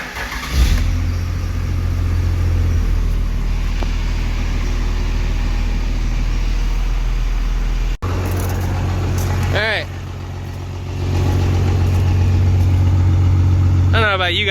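A Dodge Dakota pickup with a swapped 12-valve diesel, S300 turbo and 48RE transmission runs with a steady, deep, close diesel rumble, briefly dipping mid-way; a voice talks over it.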